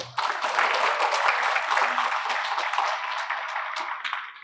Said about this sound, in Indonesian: Beri aplaus untuk panitia.